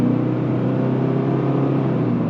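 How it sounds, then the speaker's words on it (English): Engine of a 2024 Subaru Impreza RS heard from inside the cabin while driving: a steady, low, even drone with a faint fan-like whir, no talking over it. "You can hear the engine a little bit."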